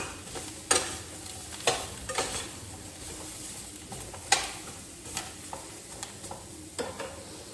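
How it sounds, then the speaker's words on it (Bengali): Eggplant slices fry in a pan for a spicy Bengali begun jhal, a soft steady sizzle broken by several sharp scrapes and clinks of a spatula stirring against the metal. "এবার এটা একটু ভাজা ভাজা হোক।"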